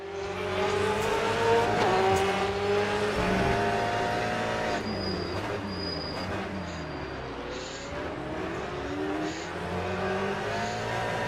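Race cars including a Corvette lapping Portimao in the Le Mans Ultimate video game, with a loud engine rising and falling through gear changes, other cars whining close alongside, and brief tire squeal.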